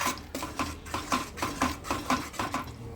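Pav bhaji vegetables being stirred in a pan with added stock, a steady rhythm of scraping and clinking strokes repeating about every half second, close and moderately loud with no talking.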